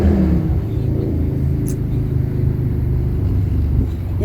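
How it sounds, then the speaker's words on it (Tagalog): A commuter train pulling into a station on the route from Belmont to Millbrae, giving a steady, loud low rumble and mechanical drone that lasts throughout, close to the platform with no talking heard. "Yan na po yung train na sasakyan po natin"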